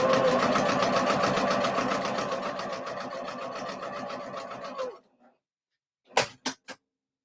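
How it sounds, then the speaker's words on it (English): Sewing machine stitching fabric while paper piecing a quilt block, a steady fast mechanical whir that runs for about five seconds, then stops, followed by a few short separate clicks or thumps. "I'm sewing on a straight line, guys."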